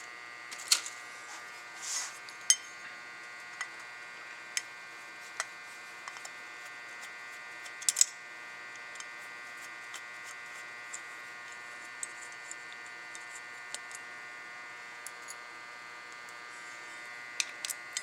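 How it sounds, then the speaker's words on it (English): A screwdriver backs screws out of a fuel casing, a steady motor whine running throughout with scattered sharp ticks and clicks of metal, close and fairly loud with no voices. "I want to switch over to a screwdriver."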